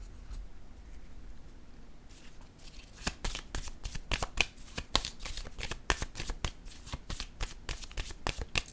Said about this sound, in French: Je vais déposer une carte sur le menacé.